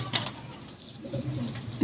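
A Teddy pigeon coos close by, giving a couple of soft, low, throaty calls over a light background, with no speech over it.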